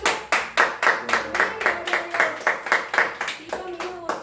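A church congregation claps in a steady, even rhythm of about fifteen sharp hand claps, close and prominent, with faint voices underneath.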